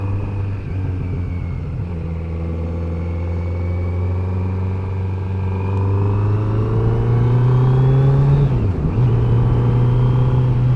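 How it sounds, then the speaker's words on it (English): Kawasaki Z900 motorcycle engine running during break-in, a loud steady drone that climbs in pitch as the revs rise, then dips briefly and settles again near the end. "when to rev the engine shortly"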